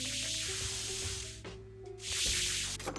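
Spray bottle misting a surface during cleaning, with hissing bursts of spray over a steady background of music or tones, a quieter gap in the middle before spraying resumes.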